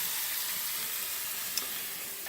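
Bacon sizzles in a hot pan during breakfast cooking, a steady close crackling hiss with one small pop and no talk.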